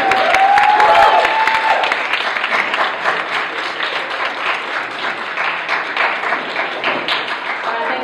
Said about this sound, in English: So can we have a big round of applause for our